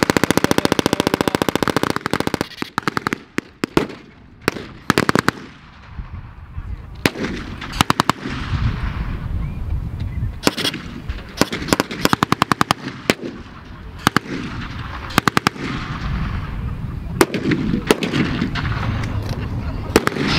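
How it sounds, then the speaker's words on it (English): Loud, sustained rapid gunfire from an Allies-versus-Axis battle reenactment at a tanks, trucks and firepower show: machine-gun bursts and sharp crackling shots overlapping almost continuously, with brief lulls between volleys. "Strong fire still being exchanged between the two sides."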